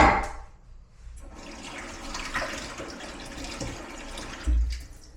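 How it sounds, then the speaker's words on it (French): Steady running water splashes over an item being rinsed under a tap, a continuous close wash that starts after a brief pause and ends with a low thump. "Et ça, je vais le rincer direct."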